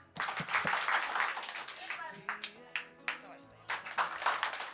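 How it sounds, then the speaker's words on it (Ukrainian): A crowd at a church youth conference claps in short, sharp rhythmic bursts, the loud claps repeating in sets amid background voices. "А ну ще раз, три плеска."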